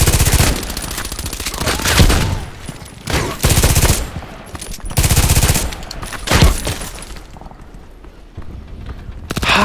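Kedr SMG fire in Contract Wars comes in several rapid, loud automatic bursts separated by short pauses, up close, with quieter stretches of game ambience between them.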